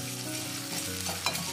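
Edible gum frying in hot ghee, a steady close sizzle and crackle with a faint stirring scrape, no voices.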